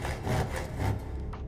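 Wood being sawn in a video game: a steady run of rough, rasping saw strokes, close and fairly loud, with no voices.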